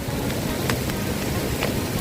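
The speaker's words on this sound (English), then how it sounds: "All because of the rain." Rain falls in a steady, even wash of hiss, with a few brief patters standing out close by.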